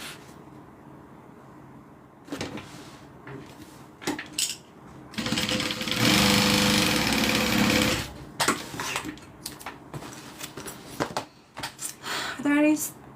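A sewing machine stitches a vinyl wallet: short, whirring bursts of needle work, with one long, loud run in the middle, alternating with a person talking nearby.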